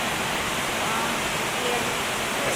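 Waterfall at Finch Hatton Gorge, a loud, steady broadband rush of falling water close by that fills the whole stretch without pause.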